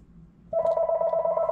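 A telephone rings with a steady electronic tone that starts abruptly after a short stretch of quiet room noise, clear and fairly close, with no talking.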